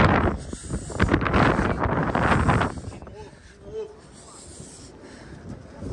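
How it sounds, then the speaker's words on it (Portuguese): Strong gusts roar across the microphone atop a tall São Paulo building while a giant 1.75 m kite is flown, loud for the first half and then easing to a softer rush. "o vento ficou muito forte"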